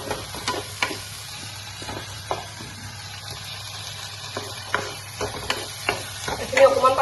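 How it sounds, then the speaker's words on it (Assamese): Chitol fish pieces frying in hot oil in a pan, a steady low sizzle under repeated scraping and stirring strokes of a spoon, close and fairly quiet, with no talk. "অকণমান ভাজি ল'ম এতিয়া।"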